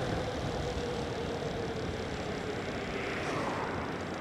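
A truck rumbles past on a road with a broad, steady wash of engine and tire noise that stays loud and even throughout, nearby and uninterrupted by voices.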